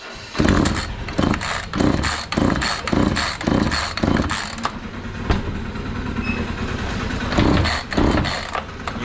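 A repaired chainsaw engine, its fuel line just fixed, pulls and fires in a string of rough bursts, then settles into a steady close-up running drone.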